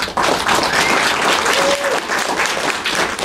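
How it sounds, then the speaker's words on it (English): An awards ceremony crowd claps for four champions, a loud, dense, even roar of applause that holds steady with no voices standing out. "please give them a round of applause"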